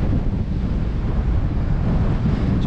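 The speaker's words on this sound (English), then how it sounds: "At last, the winds have died. It's been terrible the last few days. It's died. It's less windy. Still windy, but not as windy." Wind blowing across the microphone while riding a Ribble e-bike on a local route, a loud continuous low rumbling buffet without pause and no talking.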